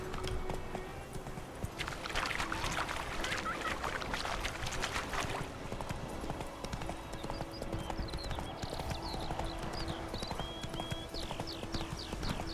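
Roach, a horse in The Witcher 3, gallops across an open field with steady, rhythmic hoofbeats, while birds chirp faintly in the background.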